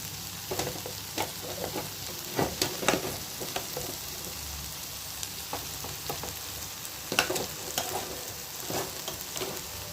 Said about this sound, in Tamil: எல்லாத்தையும் சேர்த்து நல்லா மிக்ஸ் பண்ணிக்கலாம்